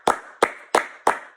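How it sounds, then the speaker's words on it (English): Four sharp, evenly spaced claps ring out close by, a short burst of hand-clapping celebrating a Popeyes strawberry lemonade. "Give that a round of applause, please."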